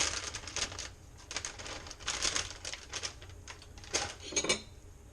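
Handfuls of spinach tossed into a pot of simmering chicken and stirred, producing clattering, crinkly rustles and light metallic clinks in irregular bursts.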